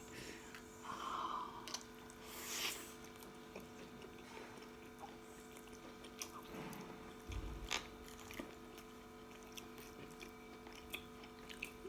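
Sushi being bitten and chewed up close, soft wet squishy mouth sounds and occasional crunchy bites spread over several seconds, quiet and intimate with no talking.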